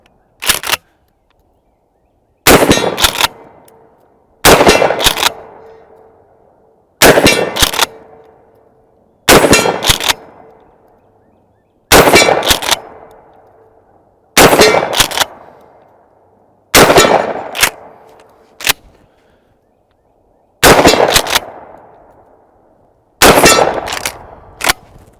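A Maverick 88 pump shotgun fires mini slug shells outdoors, about ten loud booming shots spaced a few seconds apart, each with a sharp crack and a fading ringing echo.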